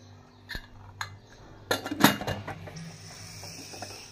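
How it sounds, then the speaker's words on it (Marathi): A pressure cooker lid being fitted on for a chavli (black-eyed pea) curry: a few sharp metallic clinks and clacks close by, bunched near the middle, then quiet kitchen background. No one speaks. "आता आपल्याला कुकरचे झाकण लावायचे आहे।"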